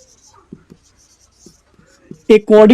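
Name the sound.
writing on a board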